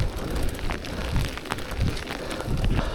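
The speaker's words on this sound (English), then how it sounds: "now it's proper raining." Steady rain patters down on a road at nightfall, a broad continuous wash with occasional heavier gusts and thumps, fairly close and loud, no voices.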